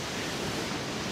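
A steady, dense rush like spraying water fills the whole brief moment, consistent with a geyser erupting in a battle royale video game, loud and unbroken with no voices.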